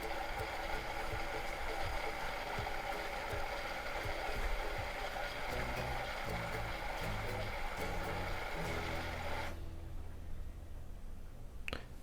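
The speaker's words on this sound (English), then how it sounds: "This is a hot valve and it will go through the main wash dispenser for 40 seconds." Whirlpool WFW75H front-load washer in diagnostic mode, hot water valve filling through the main wash dispenser: a steady rushing hiss of water with faint mechanical clicks, which stops abruptly near the end, leaving near silence.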